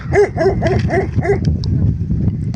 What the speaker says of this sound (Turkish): O dişi köpek.